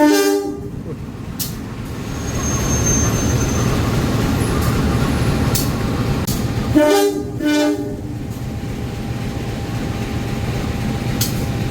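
A passenger train, the Pandalungan from Jember to Jakarta, rumbles steadily nearby while two short, loud horn blasts sound in the middle, with faint clatter under the roar.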